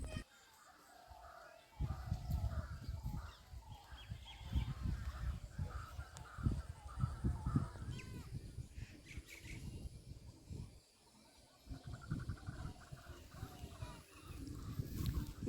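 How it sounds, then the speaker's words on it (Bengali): Crows cawing outdoors near a river in the Sundarbans, several faint calls scattered through the clip under low wind and handling noise, with people talking softly. "ডাক পাখির ডাক শুনতে পাচ্ছ"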